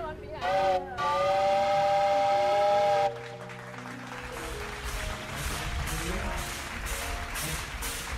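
A steam train whistle blows a long, loud, sustained tone as the train departs, followed by rumbling and chuffing beneath crowd noise in an audio drama scene.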